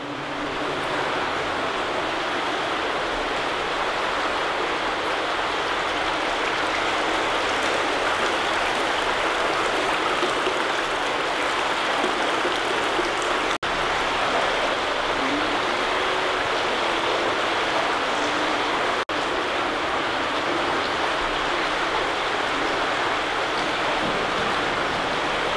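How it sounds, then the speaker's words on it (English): Moss Brook pours through a drain overflow chamber in a loud, unbroken rushing wash that carries on steadily from start to finish, with no speech. "So finally we find out what the source of the noise of water was. That is the Moss Brook."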